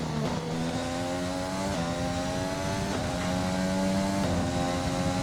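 High-revving Formula 1 car engines in the F1 2020 racing game, including a Mercedes, whine steadily and loudly with repeated gear-shift steps as pitch climbs and drops, alone throughout.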